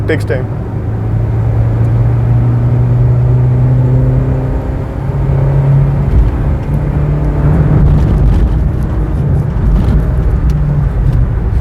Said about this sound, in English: So I'll just start in second gear, full on the throttle, taking time.